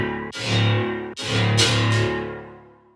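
Heavy dubstep bass heard as a side-only signal with Haas stereo widening, a thick distorted sustained tone in a few long swells broken by short dips, loud and alone.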